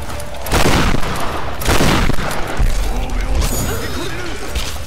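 Gunfire bursts in Tomb Raider (2013), loud cracks and booms around 0.5 s and 2 s, followed by mechanical clatter and lingering game noise.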